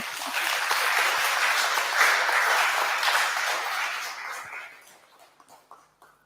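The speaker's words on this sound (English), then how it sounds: "Could we have a round of applause for them?" An audience at a film screening event claps in a steady, loud burst that holds for several seconds, then thins out to a few scattered claps and fades near the end.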